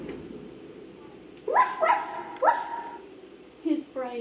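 A dog gives a few short, yipping barks in quick bursts, moderately close, against a quiet background.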